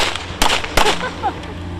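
Two sharp, loud shots ring out outdoors at a former battle site in the Nedryhailiv area of Ukraine, spaced about a third of a second apart, each followed by a brief echoing decay.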